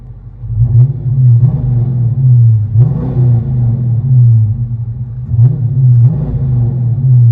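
Deep, throbbing exhaust rumble of a Dodge Charger 5.7L HEMI heard from inside the cabin, a loud low drone that swells in a few revving surges before settling back.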